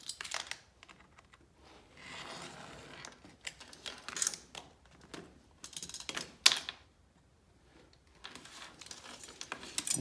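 A refrigerator magnet sheet is trimmed to size with scattered close scraping and clicking cuts. Some sharp snips stand out in irregular bursts with quiet gaps between them.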